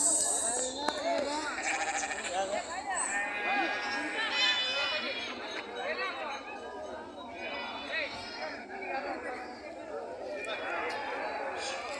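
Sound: sheep bleating at a livestock market

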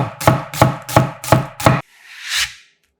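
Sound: knife julienning onion on cutting board

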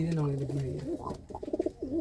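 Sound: pigeons cooing

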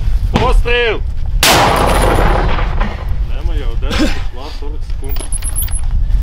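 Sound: mortar shot being fired

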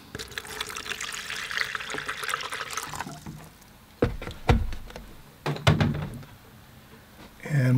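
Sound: pouring fresh clean water into a collapsible container

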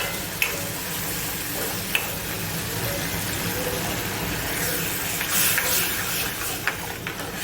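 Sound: adding buttermilk to cooking horse gram curry

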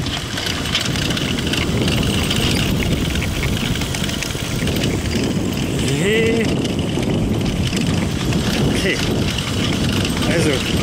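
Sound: homemade e-bike riding on turbo mode

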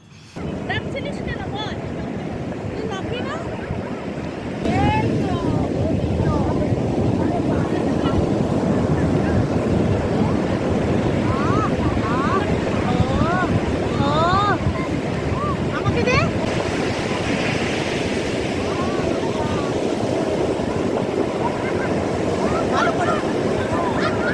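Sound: sea waves roaring

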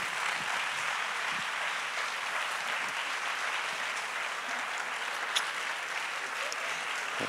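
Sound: audience applause for dancer Luciana Savignano

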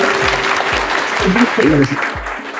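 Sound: audience applause at school award ceremony

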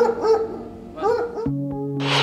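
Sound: German Shepherd dog barking

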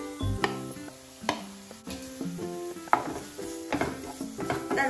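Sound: chopped onion added to hot oil, sizzling in pan

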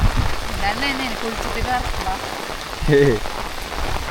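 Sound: heavy rain falling during a walk

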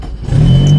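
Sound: car engine starting

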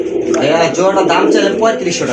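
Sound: pigeon cooing

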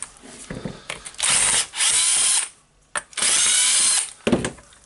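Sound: unscrewing screws on Hitachi DH40MR hammer drill handle

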